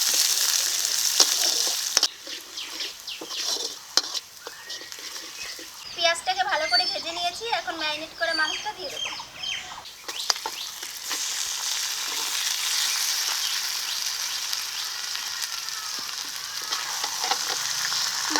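Chopped onions frying in hot oil with whole garam masala and cumin for a duck curry: a continuous close sizzle with occasional stirring scrapes, and a voice or other sound briefly rising in the middle.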